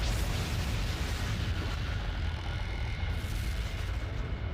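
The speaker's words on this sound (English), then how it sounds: "The explosion blows away the cloud of dust and rock and leaves behind a naked, newborn star." Rumbling explosion effect portraying a newborn star igniting as nuclear fusion begins in its core; a low, sustained booming roar that stays fairly quiet and continuous for several seconds, with no speech.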